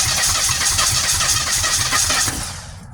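A flood-damaged 1970 Chevelle small-block V8 cranks over on its starter in a steady, loud rhythmic churn that runs about two and a half seconds, then slows and fades as the starter winds down.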